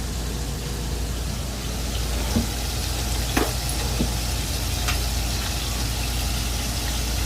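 Buttermilk-battered finger steaks sizzle in a pan, a steady loud crackling hiss throughout with occasional sharper pops.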